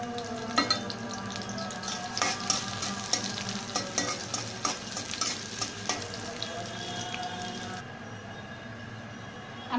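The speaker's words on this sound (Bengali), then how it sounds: "দিয়ে দিচ্ছি পেঁয়াজ এবং কাঁচামরিচ কুচি" Chopped onions and green chillies sizzle steadily in a pan, with frequent close scraping and stirring clatter throughout, no voices, and a brief faint water sound near the end.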